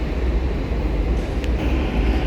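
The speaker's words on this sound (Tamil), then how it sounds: "நான் திரும்பின உடனே நல்ல அழகான ஒரு லைட் ரயில் ஒன்று ஓடிக்கொண்டிருக்கு" A light rail tram running along the street near Sydney Harbour and Balmain Wharf, heard as a steady, continuous low rumble and wheel roar, with faint outdoor ambience and no talking.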